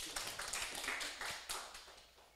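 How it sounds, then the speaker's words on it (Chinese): An audience at a law seminar gives a short burst of scattered clapping for a young attendee, a quick patter of claps that fades within a couple of seconds, moderately close and without speech. "掌声鼓励一下，年轻人来上课"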